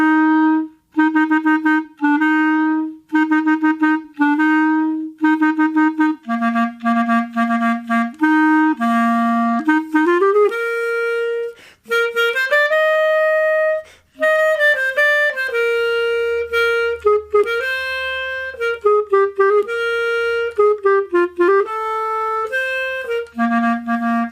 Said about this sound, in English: I put in the original Legend of Zelda main theme.